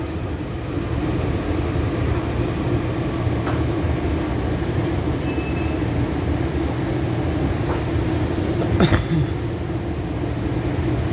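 A Washington DC Metro yellow line train rumbles along steadily with a dense, constant roar and faint squeals, a brief sharp screech standing out near the end.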